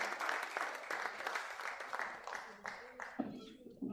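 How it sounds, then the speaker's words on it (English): Summit attendees in Lagos give a speaker a round of applause: steady crowd clapping that thins out near the end as a voice begins speaking. "Please, a round of applause for her."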